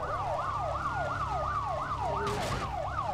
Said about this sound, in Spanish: Sí, he perdido un coche patrulla.